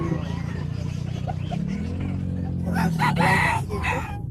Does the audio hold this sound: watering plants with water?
no